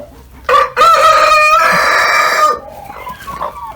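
A rooster crows loudly and close by in one long, drawn-out call, then hens cluck softly in a backyard flock as the crow fades.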